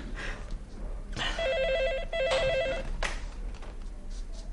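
An electronic telephone rings in a home, two clear bursts of warbling tone separated by a short gap, loud and close, with faint background noise around it.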